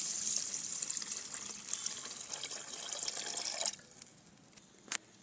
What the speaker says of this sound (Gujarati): જરૂર પ્રમાણે પાણી ઉમેરી દઈશું